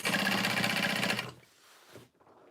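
A sewing machine stitches a tote bag in a close, fast buzzing burst lasting about a second, then stops, leaving a quiet room with a faint thump or two.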